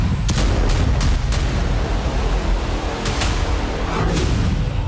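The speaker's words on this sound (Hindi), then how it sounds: "हाइफा के साथ साथ इजराइल के तिबेरियास पर भी हिजबुल्लाह ने रॉकेट हमले किए।" Explosions from a Hezbollah rocket attack in Israel, loud and close together, with several booming blasts at the start and more near the end over a constant heavy rumble.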